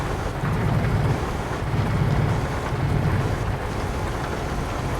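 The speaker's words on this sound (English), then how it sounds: "Meanwhile, here in northern France, it's raining cats and dogs." Heavy rain and thunder in the Euro Truck Simulator 2 driving game, a steady dense downpour with low rumbling swells, heard around a Volvo FH16 780 truck on a road in northern France, with no voices.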